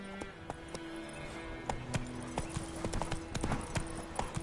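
Roach the horse gallops in The Witcher 3, rapid close hoofbeats clattering in an uneven rhythm over a background music score.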